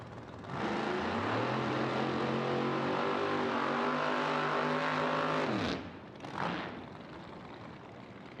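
A drag racing car roars through a PDRA East Coast Nationals licensing run, a loud sustained engine scream with rising harmonics for about five seconds before cutting off abruptly, followed by a brief fainter burst.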